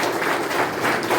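Audience clapping to welcome Bishop Pratap Nayak at a church gathering in Korukonda, a dense continuous patter of many hands at steady volume with no voices over it.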